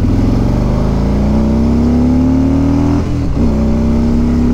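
A Harley-Davidson motorcycle engine revs loud and close in a steady, throaty drone. Its pitch climbs gradually, then briefly drops and dips before settling again.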